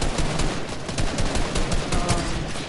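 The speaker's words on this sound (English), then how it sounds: "People shooting from the mountain over there." Video game gunfire rattles nonstop in rapid, dense bursts of machine-gun-like shots, loud and close throughout with no pauses.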